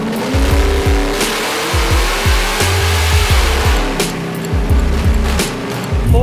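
C10 squarebody truck's engine runs hard on a dyno, a loud, steady roar with rhythmic pulsing and rising tone under load, close and unbroken with no talk.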